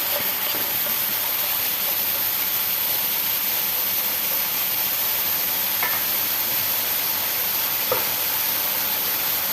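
Papaya slices fry in a pan with a constant, even sizzling hiss throughout, broken only by a few faint clicks.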